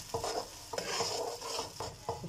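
Onion frying with tomato, ginger and garlic paste in a pan, stirred in short scraping strokes over a crackling sizzle, close and fairly faint.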